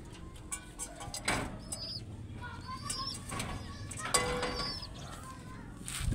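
Pet pigeons coo softly and flap their wings now and then close by, over a steady murmur of background noise, with a few brief louder flutters and bumps.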